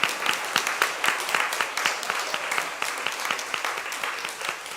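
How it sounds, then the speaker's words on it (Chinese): A church congregation at a Taiwanese-language Sunday service claps warmly for summer school teachers and children, a dense, even round of applause lasting several seconds with no voices over it. "那我们拍手，谢谢他们哈"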